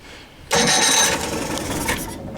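A small engine with an electric choke at a cabin cranks and fires abruptly. It jumps into a loud, rough roar, then settles into a steady running note, up close with no talking.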